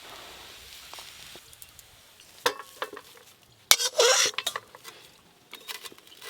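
Potato filling is stirred in a pan with irregular scrapes and knocks of a spoon against the metal, several sharp clacks, and a soft sizzle underneath.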